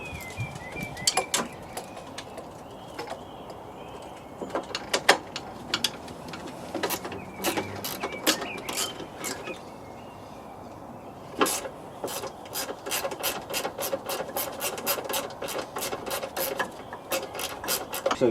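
A ratchet clicks in quick bursts while undoing 8mm screws on a Range Rover Sport coolant header tank, sharp close pawl ticks coming in irregular runs with pauses between.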